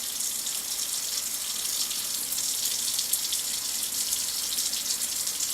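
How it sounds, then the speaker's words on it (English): Tap water running steadily from a faucet while being flushed until cold for a community water sample, a constant bright hissing stream at close range, unbroken for several seconds with no voices. "we have to let the water run a good 3 minutes at least, maybe 5, to get it nice and cold"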